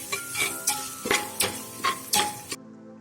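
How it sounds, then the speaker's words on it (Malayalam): Masala spice powder and black pepper frying in oil inside a pressure cooker, a soft sizzle broken by a series of sharp metallic stirring scrapes and clinks against the pot. "മസാല നമ്മൾ ഈ എണ്ണയ്ക്കകത്തിട്ട് നല്ലോണം ഒന്ന് മൂപ്പിക്കുക."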